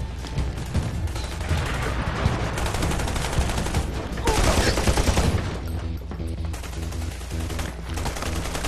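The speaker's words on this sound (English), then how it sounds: "I hear gunfire off in your direction, though." Steady, dense gunfire rattles continuously in rapid bursts, loud and sustained, like automatic weapons, in the video game Army of Two: The Devil's Cartel.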